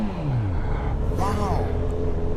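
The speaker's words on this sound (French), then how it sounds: "je sais pas si vous entendez le petit échappement là, X-Race" A 2021 Honda CB1000R Black Edition motorcycle with an X-Race exhaust rumbles low and steady beneath someone talking throughout.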